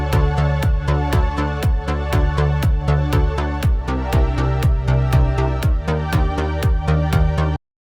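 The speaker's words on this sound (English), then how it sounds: "how to use sidechain compressors to create something that sounds like this" A track of pad, bass and kick with sidechain compression: steady four-on-the-floor kick thumps, with the sustained pad and bass ducking and swelling back after each hit, loud, alone, stopping abruptly.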